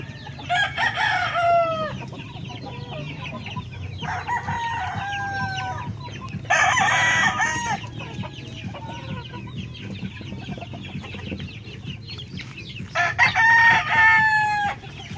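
Several roosters crow in overlapping bursts while hens cluck steadily in the background, a busy, close farmyard chorus.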